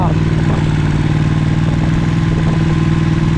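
A motorcycle engine runs steadily at close range with a low, even throb and slight mechanical clatter; it holds constant without revving up or down.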